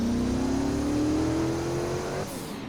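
A turbo V8 engine in a Lotus car in the Roblox game Greenville revs steadily, its tone climbing smoothly for about two seconds before cutting off abruptly, with no talking.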